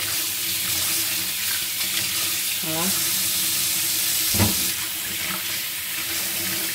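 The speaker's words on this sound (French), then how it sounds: "là c'est bien l'eau chaude du robinet" Hot water pours steadily from a kitchen tap, a continuous hiss and splash with a brief clink or two, while a voice briefly speaks over it.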